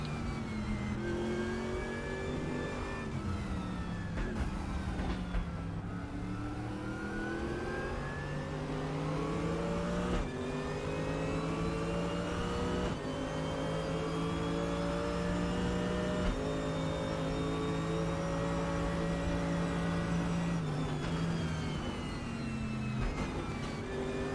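Race car in the RaceRoom racing game revs and upshifts repeatedly, its engine pitch dropping sharply under braking and climbing again on acceleration, a continuous close engine whine.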